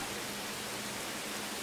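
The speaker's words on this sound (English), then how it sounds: "I do hear water" Running water in the Star Wars Jedi Fallen Order game, a steady broadband rushing hiss like a stream or small waterfall, fairly quiet and constant throughout.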